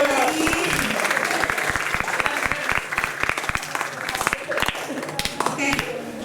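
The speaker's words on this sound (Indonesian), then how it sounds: "Boleh beri tepuk tangan lagi." Audience applause at a career day session, steady dense clapping filling the whole stretch with sharp individual claps standing out, fairly close and loud.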